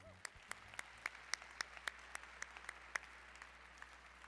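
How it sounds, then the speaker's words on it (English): Sparse, spaced claps from a small scattering of hands at a state FFA convention session honoring Animal Systems winners, each clap distinct and fairly faint against a quiet hall. "Let's get one more round of applause to all of our winners in Animal Systems."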